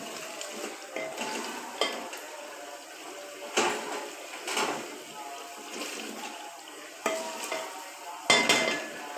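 Chana dal is tipped into a pan of cooked masala and stirred, giving soft scraping and gentle sizzling with a few sharper clinks of a spoon against the pan, close and moderately quiet.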